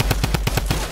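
Rapid automatic gunfire in the Fortnite video game as players shoot at the cube, a loud, close burst of about eight evenly spaced shots with no talk.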